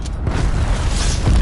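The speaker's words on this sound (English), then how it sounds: "Enemy cruise missile launch detected." A cruise missile explosion in a Call of Duty game lands as a loud, close, heavy boom with a deep rumbling low end that holds through the whole brief moment.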